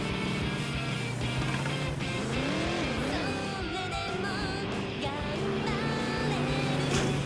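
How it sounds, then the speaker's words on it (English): Race cars in the Kaido Genkai driving game roar with rising and falling engine pitch and brief tyre squeals, over continuous game music. "Almost last minute car collision."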